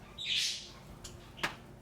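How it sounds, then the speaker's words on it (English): A noisy bird gives a short, bright chirping call close by, followed by a brief sharp tweet a moment later, over a quiet background. "Those birds are really noisy."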